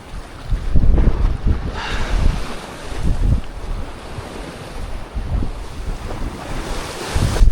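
Ocean waves surging against rocks at a rocky fishing spot, a loud continuous roar of churning surf with repeated swells, heavy wind buffeting the microphone throughout.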